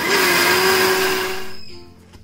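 Mixer grinder whirring steadily as it grinds roasted coconut paste with salt, a loud continuous motor whine that winds down and stops near the end, no talking.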